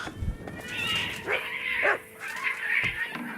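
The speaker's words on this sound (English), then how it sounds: "I hate the noise of those cats fighting in this game" Cats fighting in the video game Kingdom Come Deliverance 2 yowl and wail in drawn-out, rising and falling cries, close and fairly loud, repeating several times over a few seconds.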